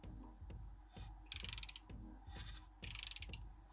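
BMW N42/N46 engine crankshaft turned by hand with a ratchet, rhythmic bursts of rapid clicking from the pawl alternating with low mechanical clunks and creaks, close and fairly quiet.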